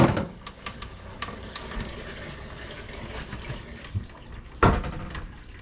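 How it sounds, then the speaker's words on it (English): Hot water runs from a tap into a container inside an old mobile home, a steady filling rush that swells into a louder gush near the end, with no voices. "I'm gonna fill this up with hot water"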